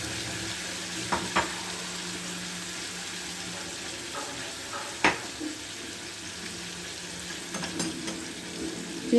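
Fish frying in a pan gives a soft, continuous sizzle with a few sharp clinks and pops of a spatula or added pieces, with no talking.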